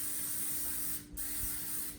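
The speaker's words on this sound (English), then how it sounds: "we need to spray our pan" Cooking oil sprayed onto a pan for sheet pancakes: a close, steady aerosol hiss running about two seconds with one brief break near the middle, no talking.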